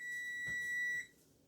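A timer alarm sounds one steady, shrill electronic tone close by, which holds for about a second and then cuts off, leaving quiet.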